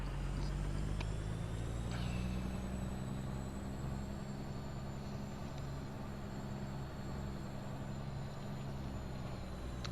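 A modded semi tractor and trailer in American Truck Simulator idles and pulls away with a steady low diesel drone, a brief hiss of released air brakes near the start, no voices.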